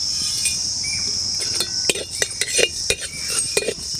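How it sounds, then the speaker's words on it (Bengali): Whole cumin, coriander, cardamom and cinnamon are dry roasted in a pan for village-style singara spice, with sharp metallic clinks and scrapes of stirring coming in irregular bursts over a steady high hiss. "এই মশলাগুলোকে আগে ভেজে নেবো নিয়ে নিচ্ছি গোটা জিরে গোটা ধনে এলাচ দারচিনি"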